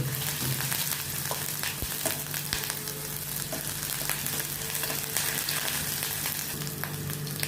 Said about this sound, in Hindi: इसको अभी मैं तेल में थोड़ा सौते करूँगी।